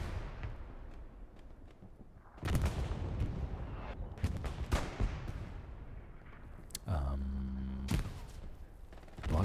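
Rocket launch and gunfire in the online shooter Hell Let Loose, a 49-versus-49 match in Hurtgen Forest: sharp bursts and rumbling blasts come in clusters, with a heavy boom near the end, while faint commentary sits underneath.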